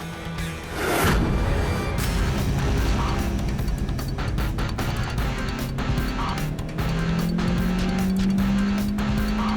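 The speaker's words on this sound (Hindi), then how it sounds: "ये विंटेज कार है, स्लो ही चलती है।" A vintage car drives along at slow speed, its engine a loud, continuous close-up drone that rises steadily in pitch toward the end.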